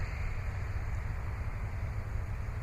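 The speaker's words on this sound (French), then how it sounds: "Kind of loud, this tractor." Steady, loud low-frequency engine rumble of a running tractor, continuous and unbroken throughout with a constant droning character and no voices.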